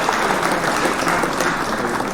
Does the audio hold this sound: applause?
yes